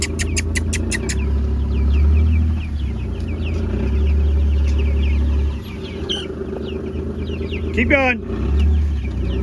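Chickens cluck and squawk from inside a moving range coop, scattered calls over a steady low engine rumble, with a sharp rising squawk near the end and a person briefly speaking.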